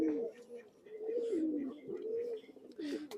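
Pigeons of an old bloodline coo softly from close by in a loft, with several low rolling calls in quick succession and faint background noise.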